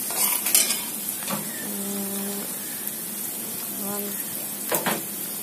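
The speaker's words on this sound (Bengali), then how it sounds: "পেঁয়াজগুলো ভেজে নিচ্ছি, ভালো করে ভেজে নিতে হবে।" Onions fry in a pan with a soft continuous sizzle, broken by a few utensil scrapes and clinks, and faint tonal hums in the background.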